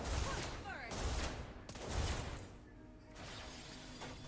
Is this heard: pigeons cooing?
no